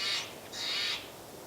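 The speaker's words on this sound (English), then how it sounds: "It's a bunch of crows." Crows caw twice near a cabin under construction in a forest, two harsh, raspy calls in quick succession, moderately close over a quiet background.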